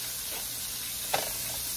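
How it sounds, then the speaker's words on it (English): A steady, soft sizzling hiss of bacon frying in a pan, constant and fairly quiet throughout. "And while our bacon is cooking"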